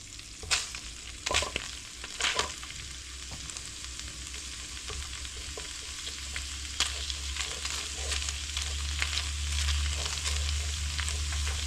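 Browned crumbled meat frying with garlic in a pan, a continuous sizzle with several clattering stirs and scrapes early on, the frying growing slightly fuller toward the end.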